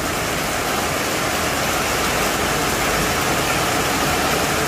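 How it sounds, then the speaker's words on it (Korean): Heavy autumn rain pours down and drips from the eaves in a dense, constant hiss, with a steady wash of falling water and no pauses or voices. "떨어지는 소리 들으세요. 처마에."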